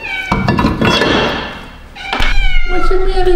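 A pet cat meows repeatedly indoors, loud and close, with several drawn-out cries spaced across the stretch, mixed with a voice talking to it and a soft thump.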